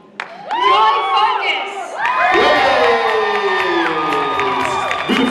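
A comic con stage audience erupts into loud cheering, whoops and shouting, with children's high voices prominent, building in waves and staying dense and close for several seconds.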